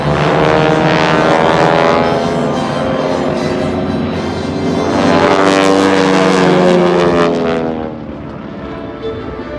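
The Aeroshell aerobatic team's propeller planes fly in formation at the Abbotsford airshow, a loud continuous engine drone with a sweeping, phasing whine that swells near the middle and then eases away.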